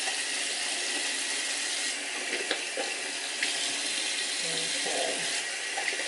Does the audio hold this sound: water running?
yes